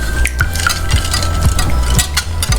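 A whisk beating the egg and vanilla mixture for French toast in a bowl, brisk rhythmic clinking and swishing at close range, loud and continuous with no talk.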